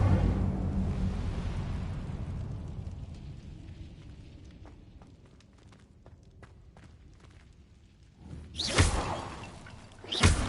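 Incendio fire spell cast in Hogwarts Legacy, a rushing fiery whoosh that fades, then a couple of loud fiery bursts near the end, no talk.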